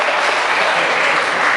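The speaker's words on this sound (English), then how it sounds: "let's have a round of applause" Audience at a hockey hall of fame induction applauding: steady, loud, dense clapping from a large crowd throughout.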